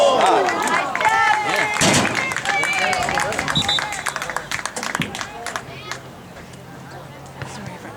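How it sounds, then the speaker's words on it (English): People clapping amid a lively crowd at a sports game, the claps blending into loud, dense babble of voices and cheering close by, fading somewhat toward the end. "Sorry for claps"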